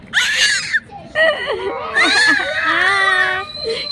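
A small baby girl shrieks at close range in a domestic setting, with piercing wavering cries in short bursts that then stretch into a longer whining wail. No speech.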